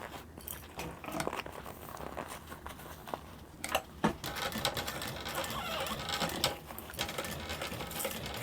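A sewing machine runs a 1/4 inch seam on a lined mini backpack panel, its needle whirring in a close, steady chatter with brief pauses.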